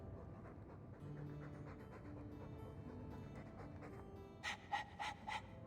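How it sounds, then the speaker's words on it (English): Dog panting in the fantasy video game Dragon Age II, rapid rhythmic breathy huffs beneath a low game background drone, growing louder and sharper in the final second. "All that noisy dog breath,"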